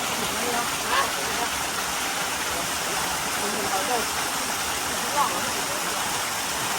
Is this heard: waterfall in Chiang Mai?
yes